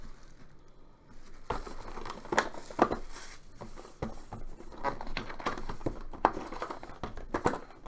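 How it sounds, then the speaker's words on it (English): Baseball card box packaging is torn open up close, with crinkling plastic wrap and sharp ripping bursts of cardboard and film in uneven handling noises, and nobody speaking. "rip this open."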